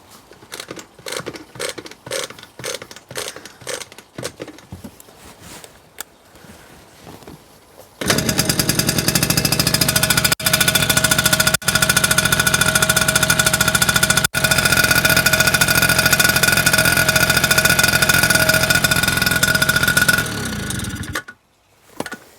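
A two-stroke engine with an air leak idles with sputtering, uneven pops at first, then revs to a loud, steady buzzing roar that holds for about twelve seconds before it cuts off sharply.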